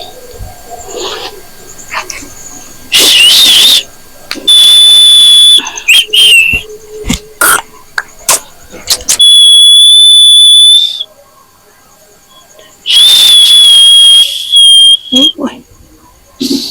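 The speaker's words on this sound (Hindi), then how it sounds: "सीटी के मारी छे" A whistle is blown in loud, shrill, sustained blasts, repeated several times between stretches of talk and background noise, with a voice speaking in between.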